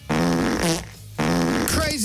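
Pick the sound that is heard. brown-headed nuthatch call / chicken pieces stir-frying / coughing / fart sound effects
fart sound effects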